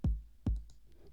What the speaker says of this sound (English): So for a basic 4 on the floor beat, which is one kick for every 4 parts, which sounds like this.